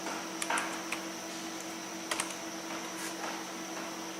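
Sparse keystroke clicks from a computer keyboard while HTML tt tags are typed into Notepad; a few scattered taps, with a short cluster near the start and another mid-clip, over a steady electrical hum. No one speaks.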